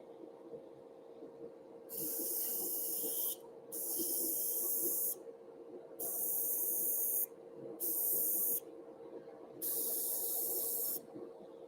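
An airbrush sprays paint onto model structures in five separate hissing bursts of a second or two each, quiet pauses between them and a faint steady hum underneath.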